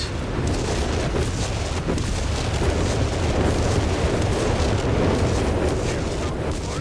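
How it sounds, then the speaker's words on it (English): Battlefield bombardment in the World War II strategy game Company of Heroes 3, with a dense, continuous barrage of booming explosions and crackling bursts rolling together loudly throughout, no clear gaps between blasts. "more explosions, more units being ripped apart here"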